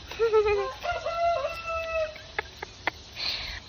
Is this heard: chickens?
yes